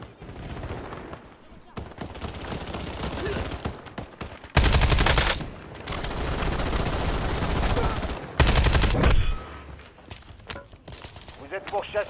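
Video game gunfire: scattered single shots and two long, loud bursts of automatic fire, close and sharp, with a voice talking between the volleys.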